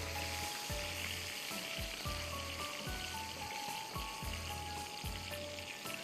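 Garlic sizzling in hot oil within a fish masala, a constant crackling fry with soft repeated stirring or scraping thumps at a regular pace.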